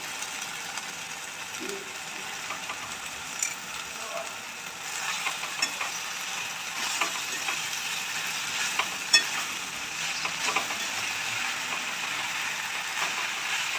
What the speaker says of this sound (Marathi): मेथीची भाजी टाकून घेऊया